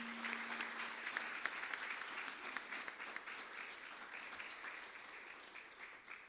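Audience at a school district Teacher of the Year ceremony giving sustained applause, dense even clapping throughout, heard from some distance and fairly quiet.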